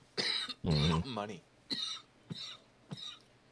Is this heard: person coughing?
yes